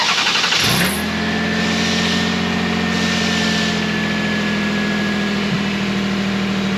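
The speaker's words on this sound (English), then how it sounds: "let's start the car and see if it sounds like we still have an exhaust leak" A car engine cranks and catches after an exhaust leak repair, then settles into a steady, loud idle with a faint whine, close by in a repair shop.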